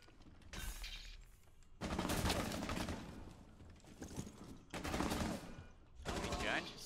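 Rapid bursts of gunfire from the tactical shooter game Rainbow Six Siege crackle in several clusters separated by short gaps, with players talking quietly underneath.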